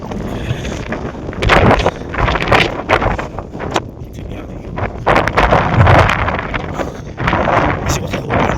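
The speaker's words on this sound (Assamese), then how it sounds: "সৰুৰে বতাহ দিছে" Strong wind on a high-altitude trek near 14,100 ft, loud gusty buffeting that swells and fades in waves, battering the microphone at close range.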